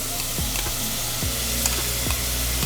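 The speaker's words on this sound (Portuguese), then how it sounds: "nessa mesma panela eu vou fazer o nosso molho, que vai deglaciar esse fundo da panela" A pan that held meat sizzles loudly as sauce with cream deglazes its bottom, a steady close crackle broken by the rhythmic scrape of a utensil stirring.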